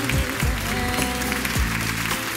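Audience applauding for a singer at the 2008 Kral Türkiye Music Awards ceremony, a steady dense wash of clapping held under loud background music throughout.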